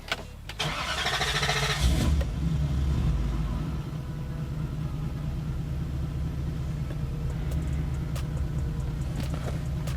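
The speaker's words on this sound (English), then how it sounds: "It's idling actually perfect on the first try." A Lexus SC400 engine cranks and catches, revving briefly before settling into a steady, low idle that rumbles on evenly.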